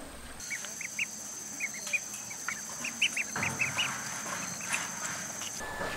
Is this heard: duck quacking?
yes